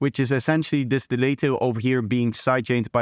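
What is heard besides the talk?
No distinct noise like a dog, phone or traffic.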